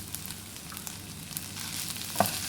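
Cha-om leaves stir-fried with shrimp paste chili and stink beans for shrimp fried rice, a continuous close sizzle with light scraping, without speech.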